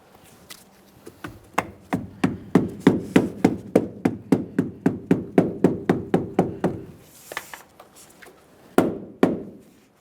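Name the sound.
tapping door weatherstrip seal into place on Dodge Ram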